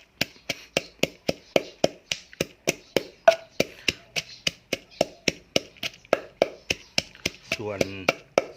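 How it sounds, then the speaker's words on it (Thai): Northern Thai-style green papaya salad being pounded, chilies crushed in a mortar with steady, rapid thuds about three per second, close and clear, with a brief voice near the end. "อย่าตำพริกเป็นเม็ดให้มันละเอียด"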